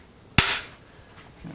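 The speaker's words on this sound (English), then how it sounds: "where's my little hammer here? Give it a little pop." A small hammer gives a single sharp tap to knock a clamping caul loose from a 1964 ES-335 guitar in a workshop, one crisp loud crack that quickly fades.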